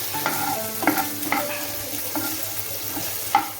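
Spiced ingredients for a fiery fish pickle frying in a pan, a close, bright sizzle punctuated by several brisk stirring scrapes and clinks of a spoon against metal.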